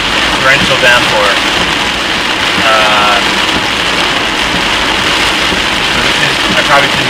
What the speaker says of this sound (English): This is a driving torrential downpour.